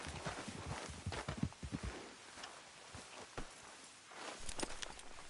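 Video-game horse hooves clip-clop at a walking pace on hard ground, fairly faint, with a steady uneven rhythm and no talking.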